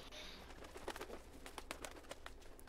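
A bird coos softly in the SCUM survival game, a few short repeated calls over a faint background hiss and low ambient rumble, distant and quiet.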